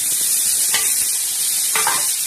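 Onion, chilli and tomato with crushed garlic sizzle steadily on a hot iron griddle, with a couple of scraping stirs cutting through the constant hiss; no talking.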